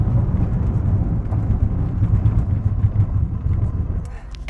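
A Mercedes-AMG GT launches hard from a standstill with a loud, deep engine roar that holds steady and strong before easing off near the end.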